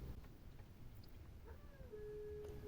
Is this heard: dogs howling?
yes